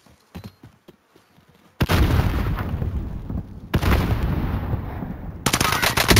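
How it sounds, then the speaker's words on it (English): Warzone video game combat with a thrown frag grenade: a few sparse clicks, then loud sustained bursts of rapid gunfire and blasts filling the rest, close and dense. "Tossing a frag."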